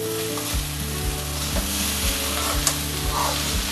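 Quinoa being stirred with spices in a hot pan, a close steady sizzle under rhythmic scraping strokes about twice a second.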